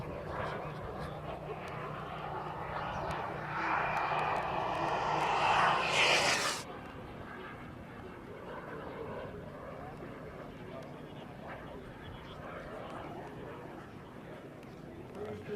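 A loud jet aircraft roar swells overhead at an air show and then cuts off abruptly, leaving a fainter rumble of engines and crowd noise behind.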